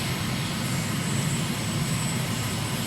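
Small airplane engine droning steadily on a westbound landing approach, a loud continuous cabin hum with broadband roar and low throb, no talk.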